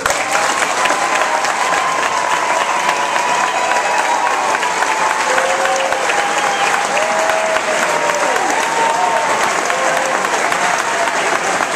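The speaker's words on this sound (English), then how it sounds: "Please, all nominees, stand and let's give you a round of applause." An audience gives award nominees a sustained round of applause, a dense, even clapping that stays loud and steady throughout, with faint crowd voices mixed in.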